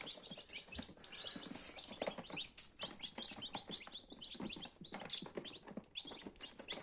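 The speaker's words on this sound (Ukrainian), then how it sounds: "Ось такі дивіться наші пташечки." Newly hatched chicks fresh from an incubator, on hatching day 20, chirp in a dense, continuous chorus of high, rapid peeps, close and steady, with no voices.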